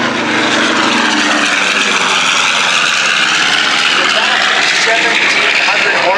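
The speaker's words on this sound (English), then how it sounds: "the sound you're going to hear, the two Wright R2600 14-cylinder air-cooled radial engines" A plane powered by two Wright R2600 14-cylinder air-cooled radial engines, about 1,700 horsepower each, roars overhead at an air show in Minnesota, loud and steady with a rising and shifting engine drone.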